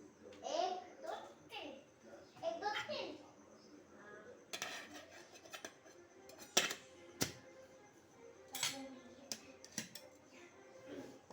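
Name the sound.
spoon and containers clinking while filling a tiffin box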